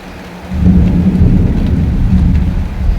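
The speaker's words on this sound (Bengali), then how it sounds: "আবার বিদ্যুৎ চমকাচ্ছে প্রচণ্ড ভয় লাগছে" Heavy monsoon rain pours down steadily at a home while deep thunder rumbles loudly through it, with no voices.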